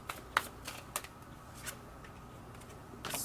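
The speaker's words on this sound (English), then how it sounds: "now let me finish shuffling" Tarot cards being shuffled in quick riffling bursts, with several short crisp flutters separated by pauses, close and fairly quiet.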